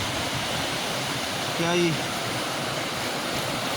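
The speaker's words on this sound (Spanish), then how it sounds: "estos son varios arroyos y ya donde se junta ya se convierte en río" Clean mountain streams joining into a river flow steadily, a broad close rushing wash throughout, with someone briefly speaking over it.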